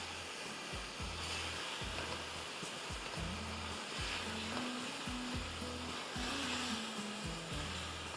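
Tomato puree sizzles steadily in a pan, a close, even crackle running throughout with a recurring low rumble pattern beneath, no talking.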